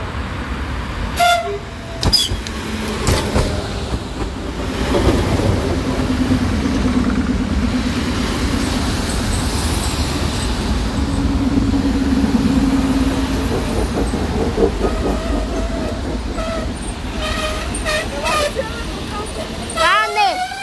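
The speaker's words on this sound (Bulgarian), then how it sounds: "Ето я идва електричката." Electric passenger train 70201 from Berkovitsa arriving at Vratsa station, a loud rumble building and rolling past with a horn blast and squealing brakes toward the end, while people talk nearby.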